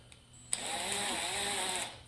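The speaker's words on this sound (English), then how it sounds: "as you can see, the drill's walking a little bit, so we gotta use a little bit more force." A power drill bores into a metal laptop cooling profile, a steady loud whining grind that starts abruptly after a short pause and holds for over a second before tapering off, with no talking.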